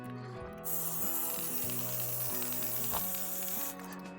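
Foam motorcycle chain lube sprays in a long, steady hiss from an aerosol can, starting after a brief pause and running continuously at close range before cutting off near the end.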